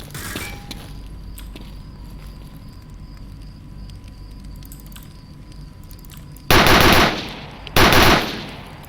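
Video game gunfire: faint clicks and a steady hum at first, then two loud, close bursts of rapid automatic fire near the end, each lasting about a second.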